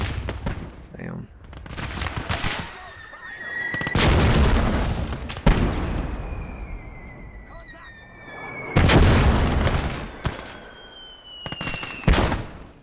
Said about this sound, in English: Mortars in position, dropping rounds.